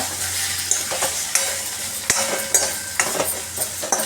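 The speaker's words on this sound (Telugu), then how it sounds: "మంచిగా డీప్ ఫ్రై చేసుకోవాలి టూ ఎగ్స్ అయితే పోసాను" Two eggs frying with moringa leaves in a pan: a close, steady sizzle punctuated by regular spatula taps and scrapes roughly every half second as the mixture is stirred.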